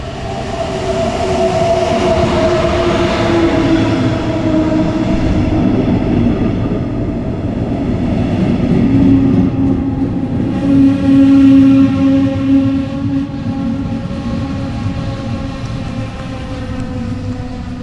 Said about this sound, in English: here we can see the train arriving